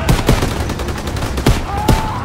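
Loud, close pistol fire in a World War II shooter campaign, several rapid shots cracking over dense battlefield noise with other gunfire around.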